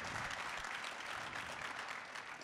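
A live studio audience at a Wall Street versus crypto debate breaks into sustained applause, a dense steady clapping throughout without a break, heard at moderate distance.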